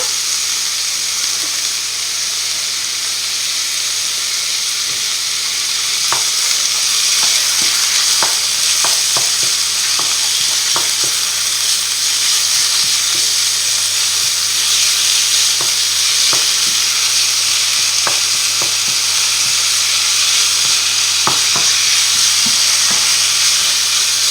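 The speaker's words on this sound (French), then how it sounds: "Là, on rajoute notre viande hachée. Là, s'il faut, on rajoute un peu de l'huile d'olive pour pas que ça attrape." Minced meat fries in olive oil in a pan for an eggplant lasagna, with a loud continuous sizzle and intermittent scraping taps of a utensil stirring the meat.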